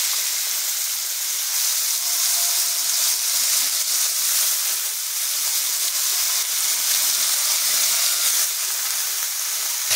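Cubed potatoes dropped into hot oil tempered with five-spice seeds and a bay leaf for a bathua greens dish, giving a loud, steady, hissing sizzle that fills the whole stretch without any talking.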